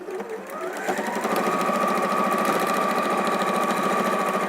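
A sewing machine hums and clatters loudly and steadily as it stitches through many layers of thin fabric for an appliqué cushion, speeding up after a brief start and running close without pause.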